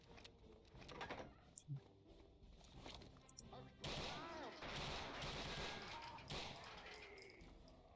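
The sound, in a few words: MG42 machine gun firing in the video game Brutal Wolfenstein 3D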